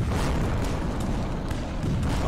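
Cannon fire in the Rise of Liberty video game, a canyon battle with deep, loud booms rolling over continuous battle noise, several heavy thuds spaced across the moment.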